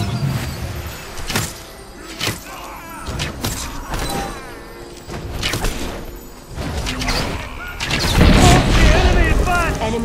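A tower collapses in the Guardians of Middle-Earth video game with a series of loud booms and crumbling crashes, building to a heavy burst near the end, with a voice speaking over part of it.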